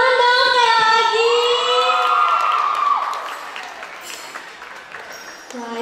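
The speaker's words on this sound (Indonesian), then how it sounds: "tepuk tangan dong sekali lagi" After a dance and karawitan performance, the crowd lets out loud whoops and cheering voices that give way to a lighter patter of applause under chatter.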